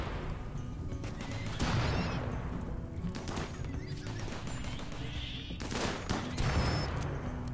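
Turret gunfire crackles in bursts during a RimWorld colony defense, mid-level and busy, with sharp cracks and rattling shots layered over a steady background din.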